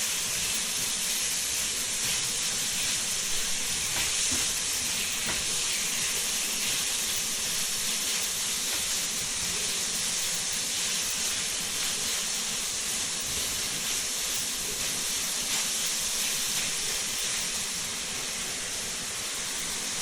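Pepper steak browns in a hot pan, a loud, continuous broadband sizzle that holds steady and dense from start to finish with no talking over it.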